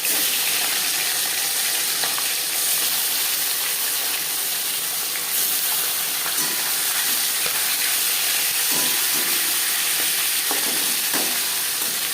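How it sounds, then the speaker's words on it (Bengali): Katla fish pieces frying in hot oil: a dense, continuous, loud crackling sizzle with occasional soft pops and faint utensil bumps, close and steady throughout. "তিনবারে মাছ ভেজে নেব"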